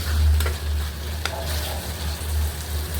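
Onion stalks fry in a pan with a close, steady sizzle, broken by a few brief scraping stirs of a utensil over a low hum.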